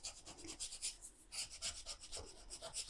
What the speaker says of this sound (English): What I like to do once I actually have it on there is to go in and burnish the back.